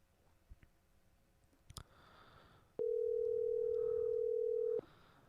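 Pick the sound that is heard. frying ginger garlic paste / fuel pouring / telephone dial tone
telephone dial tone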